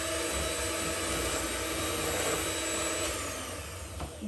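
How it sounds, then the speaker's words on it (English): Electric hand mixer beating 120 grams of butter until light and pale for a gingerbread bundt cake, a steady close whirring drone that runs throughout and eases slightly toward the end. "I will just mix it with the mixer till it is light and pale"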